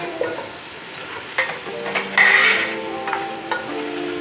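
Chopped potatoes fry in a pan with onions for chicken mapas, giving a close steady sizzle broken by several scraping stirs and light clinks of a utensil against the pan.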